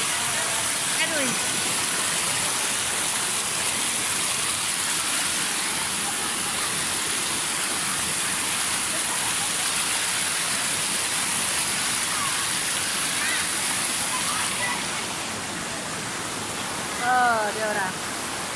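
Steady broadband rush of the Bekok river flowing at a recreational forest swimming spot, a continuous close wash of water with voices and bird-like calls faintly over it near the end.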